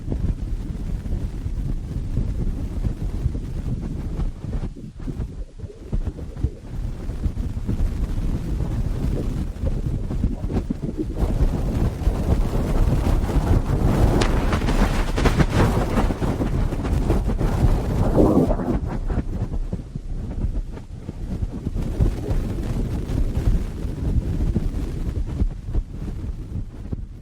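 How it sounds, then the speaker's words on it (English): A dense, rumbling whoosh swells and fades like wind or surf, steady and unbroken, with no voices: a solar probe recording of the sun, sonified. "what if I told you that that was the sound of the sun?"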